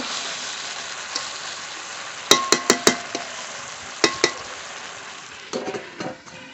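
Chicken being stir-fried for kosha in a pan, a steady faint sizzle broken by a quick run of sharp metallic clinks from stirring, then more scraping and clatter near the end, no talking.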